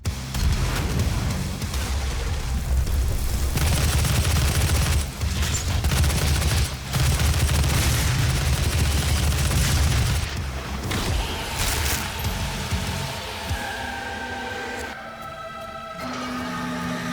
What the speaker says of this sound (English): Rocket launcher against this one dude.